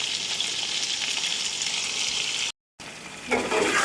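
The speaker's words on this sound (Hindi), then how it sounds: "हमारे पोटैटो फ्राई हो रहे हैं।" Potatoes frying in a pan for chicken pulao give a steady, loud, broadband sizzle that cuts out briefly and then returns with a brighter splash of stirring.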